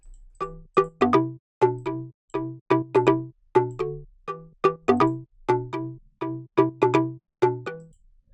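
Bright plucky deep house synth lead playing a bouncy, syncopated pattern of short stabbed notes, repeating in a steady loop with no other sounds.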